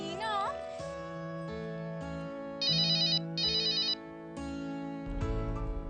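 A phone rings after Aman's number is dialed, playing a melodic electronic ringtone. Short tonal phrases repeat clearly at moderate volume, with no one talking over them.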